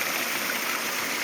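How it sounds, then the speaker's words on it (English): A small cascade of water tumbles down beside a forest hiking trail near Longmire, Washington, a steady, bright rushing wash that stays close and even throughout, with no talking. "nice little cascade coming on down"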